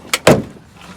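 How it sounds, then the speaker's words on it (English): A rear door trim panel on a 2001-2006 Acura MDX is popped loose, giving two sharp plastic snaps close by, the second louder with a brief rattle after. "So we're gonna pop the door."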